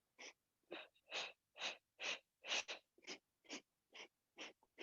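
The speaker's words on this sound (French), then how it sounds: "Elle est comme ça, la respiration" Forceful rhythmic breaths during the Pilates hundred exercise on a mat, about ten sharp, even bursts of air in steady pulses, close and fairly loud with no talking.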